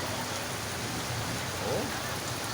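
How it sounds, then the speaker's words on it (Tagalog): Steady, dense rain roars throughout, a heavy downpour with constant broadband hiss and no clear voices. "sa tindi ng lakas ng buhos ng ulan"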